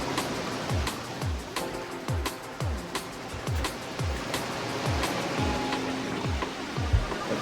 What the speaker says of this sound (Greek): κύματα.